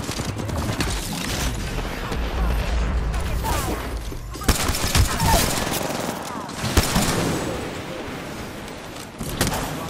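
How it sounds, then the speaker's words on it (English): Smart-bullet gunfire in a sci-fi video game, sharp shots and bursts landing among booming impacts and a dense, busy combat mix of noise and effects. "Firing a smart bullet."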